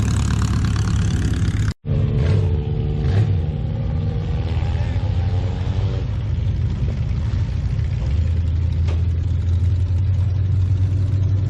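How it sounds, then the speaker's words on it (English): Cars and trucks rumble and rev past at close range at a demolition derby, a continuous loud engine drone with surging acceleration and a brief dropout, while a voice talks over it. "Got some caravans ripping past us"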